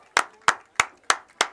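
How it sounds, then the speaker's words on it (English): A single person claps five times at an even, unhurried pace, close and distinct, at the end of a girls' high school soccer game between Ellenville and Liberty. "As we give a nice final round of applause here to the victorious Ellenville Blue Devils"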